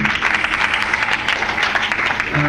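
Steady applause from a large audience, dense and continuous throughout, with no voices standing out.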